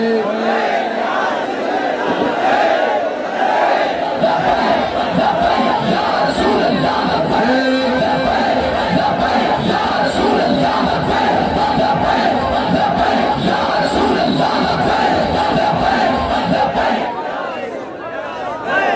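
A large religious gathering loudly chants the Labbaik slogan in unison, a dense, roaring mass of voices sustained for about seventeen seconds before it drops off near the end.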